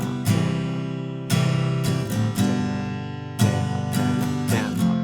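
An acoustic guitar strums the chord progression of a song in a down-down-up pattern, ringing chords struck several times in a steady rhythm, close and clear with no talking.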